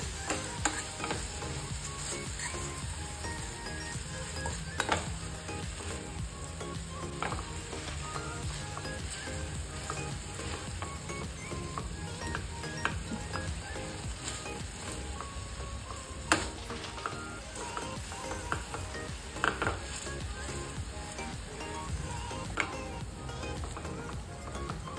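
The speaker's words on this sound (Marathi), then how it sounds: "आता हे टोमॅटो आपल्याला हाफ शिजवून घ्यायचे आहेत। त्याच्यानंतर आपण हे स्मॅश करून" Tomatoes half-cooking in a pan for a Maggi noodle dish, giving a steady low sizzle and frying hiss throughout with occasional stirring and scraping clicks, fairly quiet and continuous with no speech.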